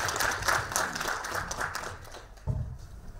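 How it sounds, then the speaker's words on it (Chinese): An audience at an academic forum applauds to welcome a guest speaker, a short burst of dense clapping that fades slightly toward the end. "下面也让我们以热烈掌声欢迎施老师"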